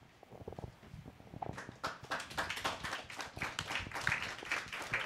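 Scattered, partial applause from a panel audience starts as a few isolated claps and swells into a moderate, uneven patter of hands clapping before it holds steady to the end.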